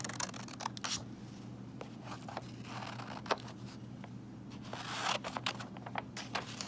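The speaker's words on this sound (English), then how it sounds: "you can do what I'm doing and just cut them out of the paper" Scissors cut out paper shapes for a penguin collage, giving soft, irregular snips and paper rustles over a low steady hum, faint and close.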